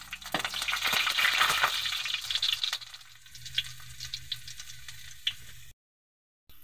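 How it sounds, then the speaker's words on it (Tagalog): Garlic and ginger hit hot oil in a wok for spicy adobo in coconut milk, producing a loud burst of sizzling that fades into quieter crackles and occasional stirring clicks before going silent. "mainit na yung ating mantika sa kwali. Magigisa na tayo ng bawang,"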